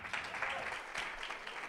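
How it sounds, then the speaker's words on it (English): Applause from a bootcamp graduation audience, a short burst of clapping from a crowd, fairly faint and uneven, with a few voices mixed in. "a big clap for him"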